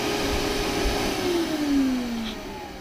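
A vacuum cleaner fitted to a DIY tube adapter for extracting engine oil sucks water through the tube, a steady loud whine with a slowly falling pitch sweep, heard alone.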